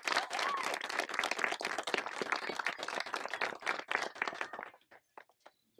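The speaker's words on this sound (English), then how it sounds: "can we just give a big round of applause for the Dighton Highway Department?" An outdoor crowd at a playground grand opening claps enthusiastically in a dense burst that thins into scattered final claps before stopping.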